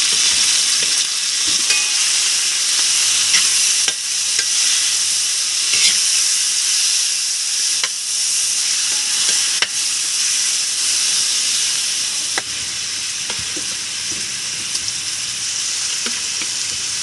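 Chicken gizzards fry in a pan with a steady, loud sizzle and hiss, broken by occasional scraping stirs and clicks of a utensil, with no talking.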